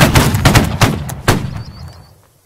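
Musket volley fire in the video game Holdfast erupts as a close, loud ragged crackle of many overlapping shots, then trails off into fading echoes.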